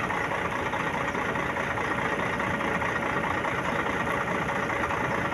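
A V6 vehicle engine, said to have a worn valve seal or valve guide, idles steadily in a continuous, even low rumble with no talk over it.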